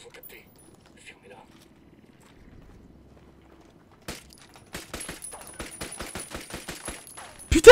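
Gunfire from a gun in Ghost Recon Wildlands, first a single shot and then a rapid run of sharp, evenly spaced shots, fairly loud after a quiet stretch with faint voices.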